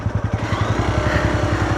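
A Hero Xpulse 200 4V Pro motorcycle engine chugs in a quick, even rhythm of low pulses, close by and steady, with no one talking.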